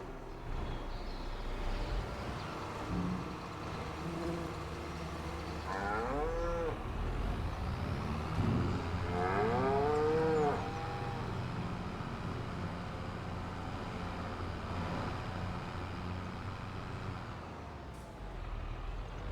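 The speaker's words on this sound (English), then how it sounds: "we need to look at cows" Cows mooing in the Farming Simulator 25 video game on a large farm: two drawn-out moos, each rising and falling, over a steady background of ambient farm noise, with no voices.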